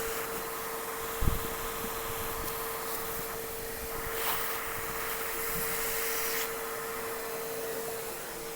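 Wood spinning on a lathe is sanded with 120 grit paper, giving a steady close hiss and rushing noise with a constant motor hum beneath, plus a brief knock near the start.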